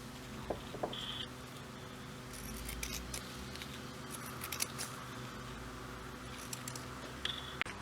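Scissors trimming PUL waterproof polyurethane laminate fabric close to the seams, a string of quiet, crisp snips and rustles heard close up over a faint steady background hum.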